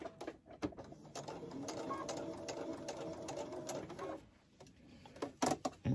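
Rapid mechanical whirring of a sewing machine stitching a hooded towel, a close steady run of several seconds broken by a pause and a few clicks and handling taps.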